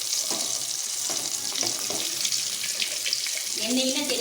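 Fish pieces for a village-style banana fish curry roast sizzle in hot oil in a pan, a steady close hiss with a few small crackles and pops.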